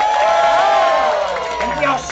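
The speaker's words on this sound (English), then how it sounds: "please give a warm round of applause" An audience at a theatre performance by an amateur players' troupe applauds and cheers loudly, with whoops rising over steady clapping for a brief moment.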